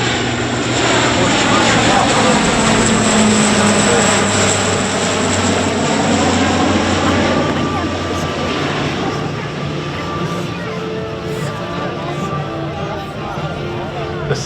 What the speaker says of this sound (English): The C-130J, very versatile, and can easily operate out of short or unapproved airstrips.